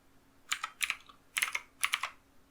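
Quick bursts of keystrokes on a computer keyboard typing a program name into the Windows 10 search box, close and clear in a quiet room.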